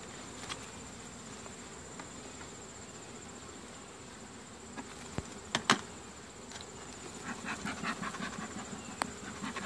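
Honeybees buzz around an open hive as a faint, steady hum beneath a high whine, with a few sharp knocks and rustles near the end and no voices.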